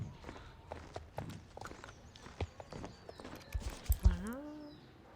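Horse hooves walking in a video game, a string of soft clip-clop steps close by with scattered clicks and a brief rising tone near the end.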